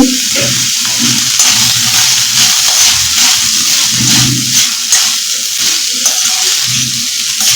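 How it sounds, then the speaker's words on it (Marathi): Chili and spice masala for Kolhapuri misal sauté in a pan with a loud, close sizzle and steady frying hiss, broken by repeated scraping stir strokes. No voices are heard. "एक पाच मिनिट फक्त सर्व मसाले मिक्स होण्यासाठी फक्त परतून घ्यायची आहे"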